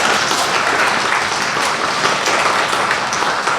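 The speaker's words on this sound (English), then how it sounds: "Give him a clap." Dense applause fills a school hall during a primary award assembly, a steady wash of many hands clapping at moderate loudness from start to finish.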